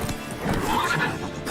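A horse in The Witcher 3 breaking into motion, with a short whinny and hoofbeats over game ambience, loud and close in a brief burst.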